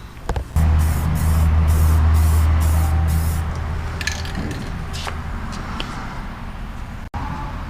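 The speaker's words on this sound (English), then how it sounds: "I'm just going to scuff it up and spray some primer on it" Primer sprays from an aerosol can onto an old EZGO golf cart being refinished, a few loud bursts of hissing spray up close, then quieter hiss and faint background noise.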